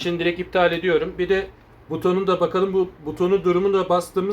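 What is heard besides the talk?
No everyday noises stand out.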